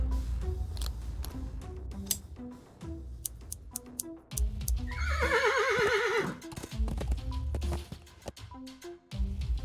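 Horse neighing in the point-and-click game Willy Morgan and the Curse of Bone Town, a clear quavering whinny rising midway over soft hoof shuffles and scattered ticks.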